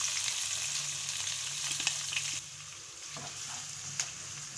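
Three medium sliced onions fry in hot oil for a fish curry, a steady close sizzle with a few light stirring scrapes, easing slightly in level partway through.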